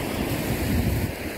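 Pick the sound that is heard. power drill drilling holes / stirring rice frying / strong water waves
strong water waves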